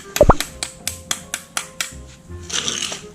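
About seven sharp, evenly spaced hammer taps on metal driving a bearing into a Honda Wave 125 motorcycle engine, close by, after a louder knock, then a brief scraping rustle.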